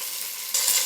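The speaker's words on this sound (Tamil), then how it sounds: "இப்போ தக்காளியும் பச்சை மிளகாயும் போட்டேன்." Tomato and green chili hitting a hot pan for fish curry, a steady close sizzle that jumps louder about halfway through as they land, then keeps frying alone.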